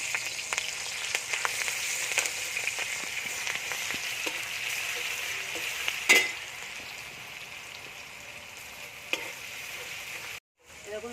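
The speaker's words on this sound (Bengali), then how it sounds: "প্রথমে কাঁচা লঙ্কা দিয়ে দেবো রসুন বাটা" Green chili and garlic paste frying in hot oil for a home chicken curry, a steady close sizzle and hiss with a few light clicks and one sharp clank midway before it cuts off.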